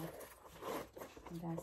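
Zipper on the narrow inner pocket of a Tory Burch handbag with a clean white lining, a few short rasping pulls heard close up while someone talks over it.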